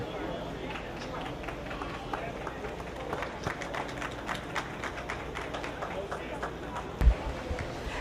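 Audience clapping for young exhibitors at a 4-H/FFA meat goat show, a steady patter of many hands filling the arena at moderate level, with a sharp thump near the end.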